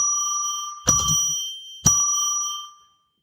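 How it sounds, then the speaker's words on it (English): A small bell is struck to mark a sacred space. Two clear, ringing strikes about a second apart each fade slowly, and a third strike begins right at the end. "We're going to ring a bell 3 times to declare sacred space."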